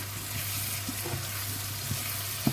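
A pot of Senegalese thiebou sauce simmers with a steady low bubbling and sizzle, a constant hum beneath it and a few soft clinks near the end, fairly close and without talk.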